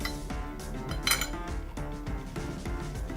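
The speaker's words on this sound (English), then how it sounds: "let's cut into it and check the final temperature" A knife slicing into a cooked steak on a plate or board, giving repeated close clinks and scrapes of metal cutlery against the dish, fairly steady and moderately loud with no talking.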